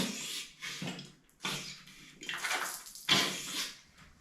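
A portable handheld bidet sprays water in short pressurized bursts, like a Holi water squirter: several separate hissing spurts with brief gaps between them, close and moderately quiet.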